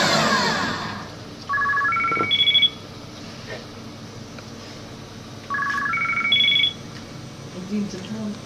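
A mobile phone rings close by, playing two bursts of a rising four-note electronic ringtone a few seconds apart, with faint background noise between them.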